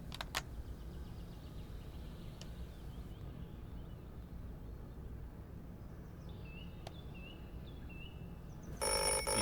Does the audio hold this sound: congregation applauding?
no